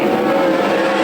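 World of Outlaws sprint cars roaring off on a green-flag restart at Willamette Speedway, a loud, steady blare of high-revving engines filling the air in one continuous burst with no talk.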